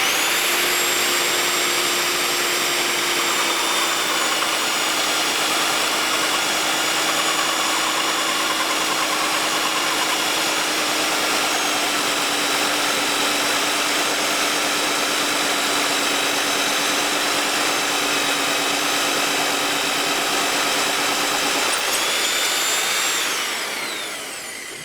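A 1500 W Graphite SDS Plus hammer drill bores a socket recess into a brick wall, its motor giving a loud, continuous, steady whine for over twenty seconds before it winds down.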